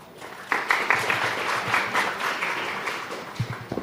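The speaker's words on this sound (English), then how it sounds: "Can we give them another round of applause, ladies and gentlemen?" Audience applause at a digital health conference, a steady wash of many hands clapping that starts abruptly and carries on at moderate loudness, with a few louder individual claps near the end.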